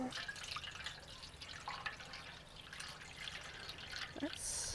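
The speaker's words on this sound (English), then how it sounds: "give you some room to pour that water in there" Water being poured into a pan in a brick oven cooking setup, giving a faint trickling and dripping splash with soft gurgles, fairly quiet against background noise, with some talking mixed in.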